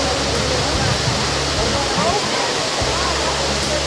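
Hebbe Falls roars as a loud, continuous broadband rush of falling water heard from close by, steady throughout and drowning out any other detail.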